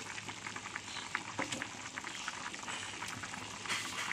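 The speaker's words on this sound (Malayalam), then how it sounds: "നമ്മുടെ മീൻ കറി തിളച്ച് പാകമായപ്പോൾ" A pot of sardine fish curry bubbles steadily at a rolling boil, with soft popping and gentle sizzling throughout, close by and fairly quiet.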